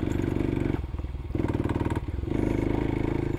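A Kawasaki KLX300 dirt bike climbs a steep trail hill in the Missouri Ozarks, its single-cylinder engine loud and close, chugging hard with a steady, rapid beat that briefly dips and returns as it labours upward.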